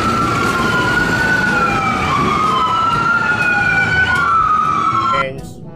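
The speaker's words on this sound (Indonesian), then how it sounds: "mobil ambulans." An ambulance siren wails loud and steady in a sweeping two-tone pattern, close by, then cuts off abruptly near the end.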